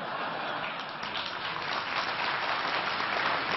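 Applause follows a speech to business leaders and bankers. The clapping sounds fuller than a couple of hands, a steady, even wash that lasts a few seconds at moderate level.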